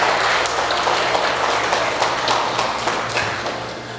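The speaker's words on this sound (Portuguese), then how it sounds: "Pode dar uma salva de palmas para o Senhor" A church congregation at an evangelical service in São José do Calçado claps together, a loud, sustained wash of applause with scattered sharper claps standing out, and no speech over it.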